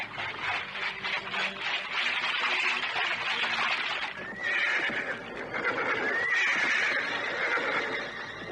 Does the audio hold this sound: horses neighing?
yes